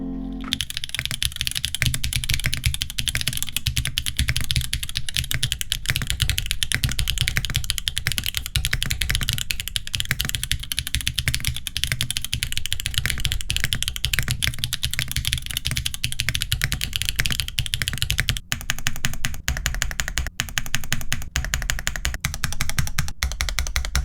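Continuous mechanical keyboard typing on a TB-65F keyboard, dense rapid clicks and clacks close up, steady for the whole stretch with no voices.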